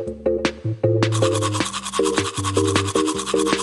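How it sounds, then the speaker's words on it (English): Toothbrush brushing teeth in a Lingokids app bathroom game, a cartoon scrubbing sound with rapid rhythmic rubbing bursts over a bouncy musical backing, close and steady. "First, let's brush her teeth."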